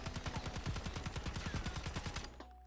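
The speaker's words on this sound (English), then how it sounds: "So this is the Model L assault rifle." A Model L assault rifle in Black Ops 6 fires one fast, steady automatic burst of about twenty close, punchy shots, then stops abruptly with a short tail.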